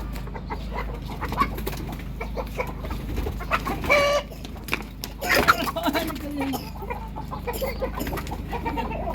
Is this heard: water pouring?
no